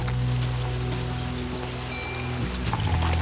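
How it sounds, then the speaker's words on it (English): Rainwater running from a roof corner where a drainpipe is missing, a continuous pattering splash and trickle with no voices. "This also has some water running"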